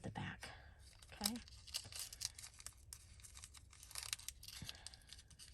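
A paper napkin is folded for a junk journal, making soft crinkles and rustles with a few brief tearing scratches, while a voice is heard faintly underneath.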